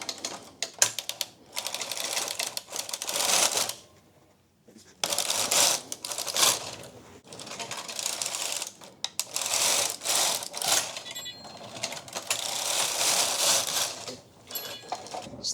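An AYAB-controlled domestic knitting machine knitting lace, the carriage pushed back and forth in long rattling, clacking passes with short pauses between rows, close and loud.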